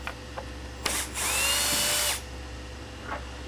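A handheld power driver buzzes for about a second while backing a bolt out of a bed's back panel, preceded by a short trigger burst and surrounded by small clicks and handling noises.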